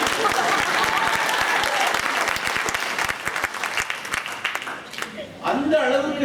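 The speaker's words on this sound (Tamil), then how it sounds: "இந்த இடத்துல நீங்க கைதட்டணும்" An audience claps steadily and loudly in a dense, continuous burst of applause that fades near the end. A voice speaks over the clapping.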